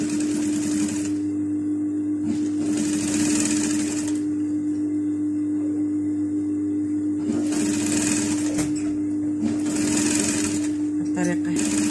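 Sewing machine running in long steady bursts as it stitches fabric for a long princess-cut coat, its motor hum continuous with brief pauses between seams, with talk over it.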